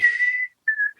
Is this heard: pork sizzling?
no